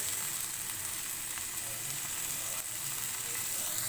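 Chicken shashlik sticks cooking on a medium-low flame give a steady, close sizzle with faint crackles throughout, no voices over it.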